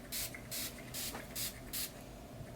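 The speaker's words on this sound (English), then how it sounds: "I spray it over all my pillows" L'Occitane relaxing pillow mist with mandarin, lavender, bergamot and geranium is sprayed from a pump bottle over pillows in five short, evenly spaced hissing bursts close by.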